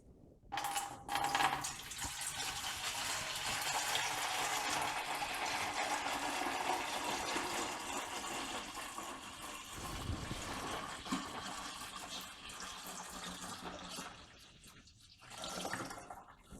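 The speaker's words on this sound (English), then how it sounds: "Now it's time to get this poured into the pinter." Liquid pouring steadily into a Pinter brewing keg, a continuous splashing rush lasting many seconds that fades near the end, followed by a brief final burst of splashing.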